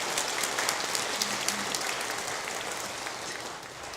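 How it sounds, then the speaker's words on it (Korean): A church congregation applauds a missionary, many hands clapping in a thick, lively patter that starts strong and slowly tapers while staying loud. "우리 선교사님 인사하실 때 우리 크게 박수로 다시 한번 감사하겠습니다."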